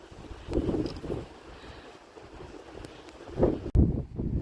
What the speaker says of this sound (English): Extremely blustery up here.